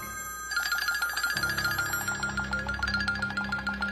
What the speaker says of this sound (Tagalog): Ayan na naman yung telepono na yan.